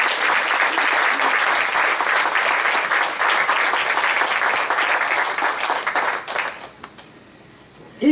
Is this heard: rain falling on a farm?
no